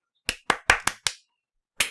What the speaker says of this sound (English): Why isn't my mic picking up my clap?